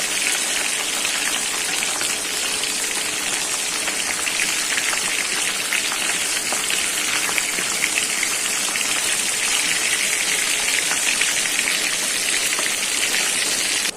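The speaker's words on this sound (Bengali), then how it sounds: "মাছগুলো ভাজা হয়ে গেছে" Steady, dense sizzling and crackling of fish frying in hot oil in a pan continues without break, close and fairly loud.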